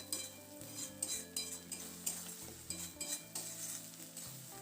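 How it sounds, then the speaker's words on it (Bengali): Shredded cabbage stirred constantly in a pan over a medium flame to dry it out: a soft sizzle under repeated rhythmic scrapes and clinks of a metal spatula against the pan, with no talking. "মিডিয়াম ফ্লেমে এটাকে অনবরত নাড়াচাড়া করে শুকিয়ে নিতে হবে"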